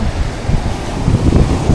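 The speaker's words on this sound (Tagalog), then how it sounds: "malakas ang alon" Loud, rough surging of strong ocean waves mixed with gusty wind buffeting the microphone, a continuous heavy roar.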